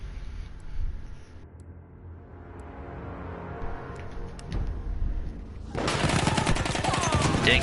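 Machine gun fire in the video game Battlefield 1, starting as scattered distant-sounding shots and rising to a loud, dense burst of rapid automatic fire over the last two seconds.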